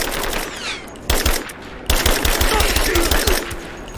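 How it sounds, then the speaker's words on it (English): Sustained machine-gun suppressing fire in Shadow of the Tomb Raider hammers in dense rapid bursts, stopping briefly and then resuming louder, close and dominant over the scene. "Open fire! Give me suppressing fire!"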